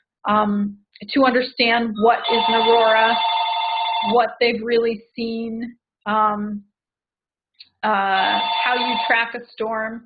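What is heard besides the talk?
mobile phone ringing in the background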